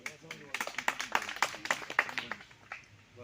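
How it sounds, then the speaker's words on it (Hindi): Clapping breaks out at a political party office bearers meeting in Banihal. Scattered, fairly faint claps patter through the middle under a man's loud speech. "तालियां बजाओ।"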